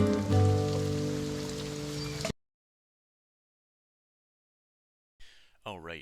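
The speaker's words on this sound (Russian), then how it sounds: "Вчера был очень сильный дождь, поэтому весь день мы сидели дома." Heavy rain patters densely for about two seconds, mixed with tonal sounds, then cuts to silence before a voice begins speaking near the end.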